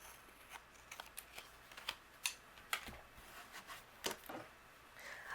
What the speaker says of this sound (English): I'm going to open this up and trim away the excess here.